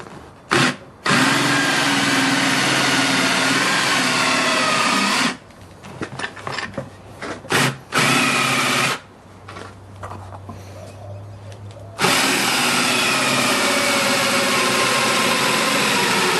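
A power drill whines loudly in long bursts while driving into wood for a rocking chair, starting and stopping several times with short pauses and a final extended run.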